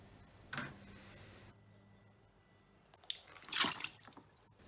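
Water trickling and dripping from a Candy washing machine's drain filter into a tray, a few soft splashy drips and a louder burst of pouring near the end, close up, with no talk.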